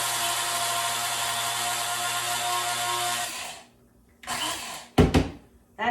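Coffee beans being ground coarse for French press in an electric grinder: a loud, steady whirring grind for about three seconds, then quiet, followed by two short bursts and a rattle near the end, with no talking.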